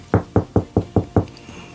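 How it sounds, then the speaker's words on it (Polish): Knuckles knocking on unpainted wood, six sharp, evenly spaced raps in quick succession, close and clear with nothing else over them. "pukam w niemalowane drzewo"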